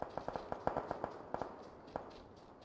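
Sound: gunfire in a video game

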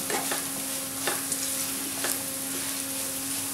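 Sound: liver frying with chili powder, stirred and sautéed

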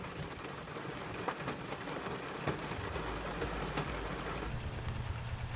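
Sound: rain falling in the woods

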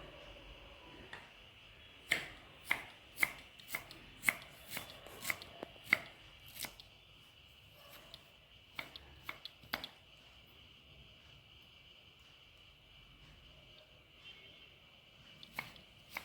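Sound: knife chopping onion and ginger finely

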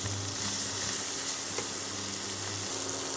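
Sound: meat sizzling in oil in a pan

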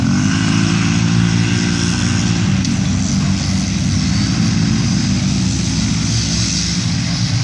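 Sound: Polaris 800cc and 900cc racing machines passing

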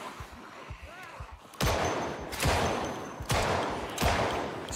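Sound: gunshots in Project Zomboid video game

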